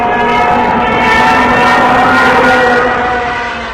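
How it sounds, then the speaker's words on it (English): A loud, sustained wind-driven Stuka dive-bomber siren wails, rising slightly and then fading, steady and close with a rough, rushing edge. "They would install a wind-driven siren that uttered a screaming sound at a maximum dive speed."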